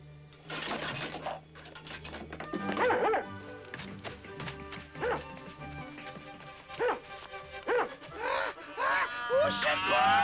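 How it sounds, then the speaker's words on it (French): A dog barks repeatedly in a scene from the 1987 animated Oliver Twist, sharp close yaps and yips in irregular bursts mixed with whimpering, over a background of music. "C'est qu'un chien."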